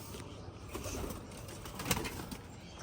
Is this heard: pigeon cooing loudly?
yes